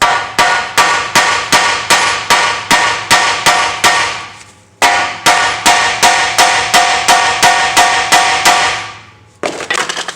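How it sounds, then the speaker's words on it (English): A hammer taps a CV axle on an Acura RSX Type S in a steady run of sharp, evenly spaced metallic blows, close and loud, pausing briefly midway before the rhythm resumes and then breaks off. "And then we'll just kind of give it a little light tap."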